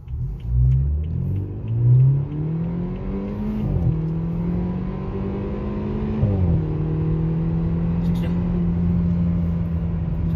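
A BMW F30 320i with the N20 engine and xDrive pulls hard from a standstill, its engine note climbing steadily through the gears with brief dips at each shift, a close, continuous rising drone.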